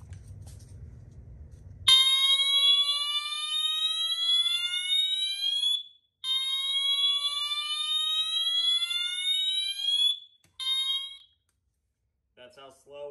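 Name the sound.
Wheelock MT-24MCW fire alarm, slow whoop tone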